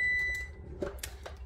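An oven beeps with a short, faint electronic tone at the start, followed by light clicks and kitchen handling noises close by.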